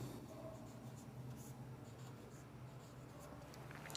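Chalk or a marker scratches across a board as a math proof is written out, a close, quiet, continuous scraping with short strokes and a steady low room hum underneath, no talking.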